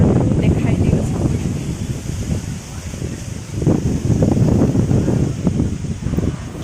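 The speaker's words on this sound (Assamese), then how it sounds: "ইমান দিনৰ মূৰত এনেকৈ বতাহ আৰু বৰষুণ এজাক আহিছে।" Wind and rain sweep through on a wedding day outdoors: a loud, continuous low roar of wind buffeting the microphone, rising and falling in gusts, with no distinct patter of raindrops.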